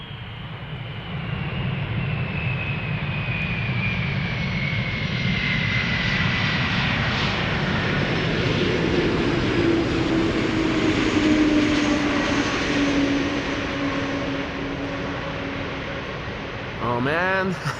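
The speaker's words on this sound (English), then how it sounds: "Let's look and listen to the 747 first. Silkway West arriving from Baku," A Silk Way West Boeing 747 cargo jet arriving from Baku passes at a distance with a broad roar that builds and slowly fades while its engine whine sweeps downward, steady and moderately loud throughout.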